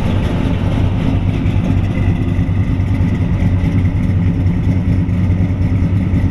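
A 1971 Chevrolet C10 pickup truck engine runs steadily at a low rumbling idle, loud and close, with no talking.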